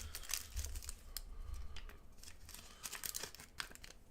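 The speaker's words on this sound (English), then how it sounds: "No, the crinkling." Soft, irregular crinkling of a plastic wrapper or paper, with scattered close crackles and rustles and no talk.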